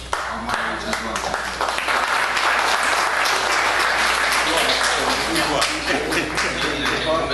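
Audience at a formal Kingdom of Eswatini event applauds the moderators, a loud, sustained wash of many hands clapping at close range, steady throughout with faint voices mixed underneath.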